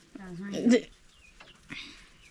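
A chicken lets out a short, close cluck, followed a moment later by a second brief squawk.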